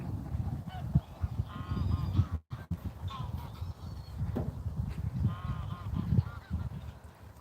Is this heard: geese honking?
yes